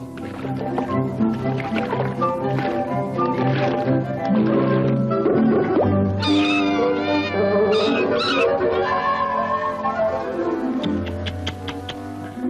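A cartoon cat from Tom and Jerry meows and wails in drawn-out, wavering cries over busy orchestral cartoon music and sound effects, loud and continuous.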